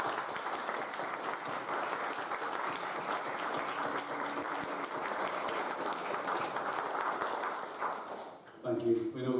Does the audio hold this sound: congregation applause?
yes